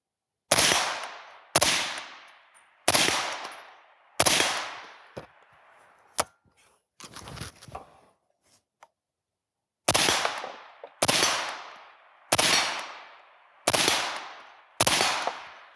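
Rifle fitted with a Rugged Surge suppressor fired outdoors, about ten sharp, loud reports in an evenly spaced rhythm, with a pause in the middle filled by faint clicks and handling noise.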